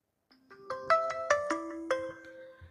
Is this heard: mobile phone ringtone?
yes